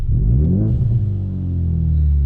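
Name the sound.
Ford Mustang EcoBoost with MBRP race catback exhaust revving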